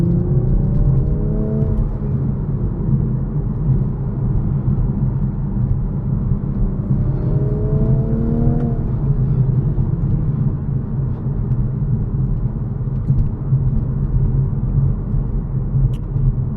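Toyota Supra in sport mode heard from inside the cabin while driving, a steady loud low engine drone and road rumble with two rising rev sweeps as it accelerates through the gears.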